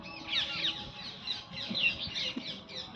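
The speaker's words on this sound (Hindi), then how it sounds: "देखिए चिड़िया कितनी बोल रही है" Small birds chirp and twitter repeatedly in the evening, faint and somewhat distant, in an otherwise quiet outdoor spot.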